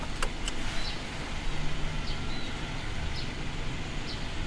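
A car engine idling while it warms up gives a steady, low, even rumble close by, with a few faint bird chirps in the background and no one talking.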